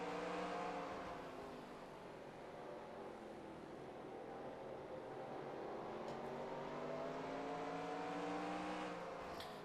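Race car engine in NASCAR Racing 2003, a Busch Series car at Hickory, droning steadily with rising and falling pitch as it accelerates out of a corner, loud and continuous with no talk.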